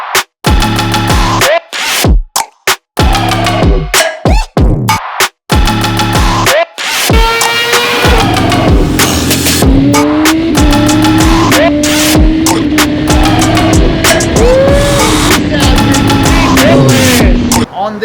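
A 2025 Suzuki GSX-R750 sport bike fitted with a full Toce exhaust system, up close and loud, blipped in sharp bursts with brief cuts between them, then revved hard and held as the pitch climbs steadily.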